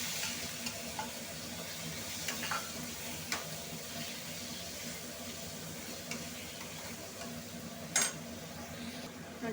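Ginger-garlic masala sizzles in a pan as prawns go in for prawn gojju, a soft continuous frying hiss with faint scattered clicks and one sharper clink near the end, no talking.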